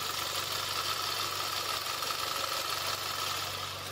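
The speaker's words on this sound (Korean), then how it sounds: "엔진 소음 먼저 들려드리면은" Engine of an export-model Hyundai Genesis Coupe 2.0 idling, a steady, even low hum with a faint mechanical whine and no change in pitch throughout.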